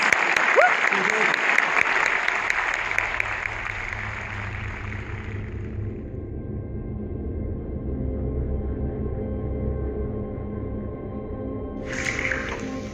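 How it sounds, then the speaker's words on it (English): Audience applause welcoming a speaker onto a stage, loud for about six seconds and then fading out, followed by quieter room tone and a brief burst of sound near the end. "Please, a warm welcome and applause for David."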